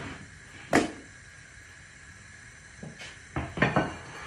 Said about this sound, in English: I'll bring my chopping board over here